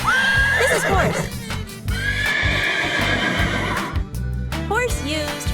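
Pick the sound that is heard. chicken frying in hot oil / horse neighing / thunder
horse neighing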